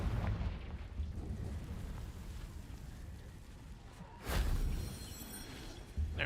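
A Confringo spell explosion in the video game Hogwarts Legacy, a rumbling blast with a second loud boom partway through and a short sharp burst right at the end.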